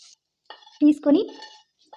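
Crispy fried potatoes tossed with turmeric and salt in a pan, heard as two short clinking, scraping bursts close by, separated by quiet gaps.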